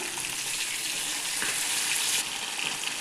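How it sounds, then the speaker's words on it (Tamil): Fish frying in oil on a stove over medium flame gives off a dense, steady sizzle and crackle, close up and continuous, with no voices. "ஸ்டவ்வை மீடியம் ஃப்ளேமில் வச்சுட்டு பொரிய விடணும் மீனை"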